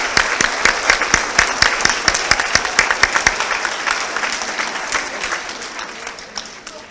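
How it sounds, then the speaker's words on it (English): An audience at a white coat ceremony gives steady, lively applause for Dean's List honor society students, dense clapping that holds strong and then gradually thins and fades out. "let's recognize them and applaud them for their high levels of success"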